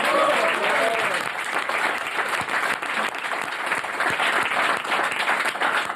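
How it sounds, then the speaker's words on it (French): A French game-show studio audience bursts into sustained applause for the prize winners, a dense, steady wash of clapping that stays loud from start to finish, with a brief voice near the beginning. "C'est aussi bête que ça, et on vous applaudit."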